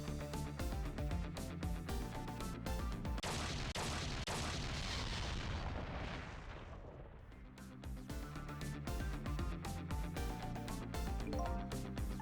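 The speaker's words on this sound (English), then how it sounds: "I think I heard an explosion somewhere" A video game explosion in Ghost Trick: Phantom Detective, a long, loud rumbling blast that swells and fades over several seconds, layered over dense game music.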